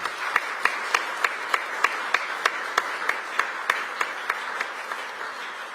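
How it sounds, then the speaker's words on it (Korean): A Korean community gathering in Belgium welcomes President Lee Jae-myung with rhythmic clapping in unison, evenly spaced beats over a softer wash of crowd applause, heard at moderate distance. "큰 박수로 환영을 부탁드리겠습니다"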